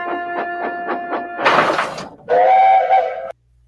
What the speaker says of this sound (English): a lot of people complain about Thomas's actual whistle sounding like a steam engine